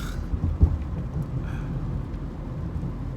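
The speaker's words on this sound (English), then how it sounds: "So it just started raining." Steady rain falls outdoors with a soft, continuous hiss, a low rumble beneath it and a faint thud near the start, heard alone without talk.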